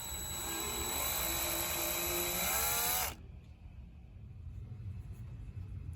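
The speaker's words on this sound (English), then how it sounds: "So I'm going to drill the holes and mount the board." A power drill whines steadily up close while boring holes to mount an LED OCD board in a Taxi pinball machine under restoration, then cuts off abruptly at three seconds, leaving quiet room tone.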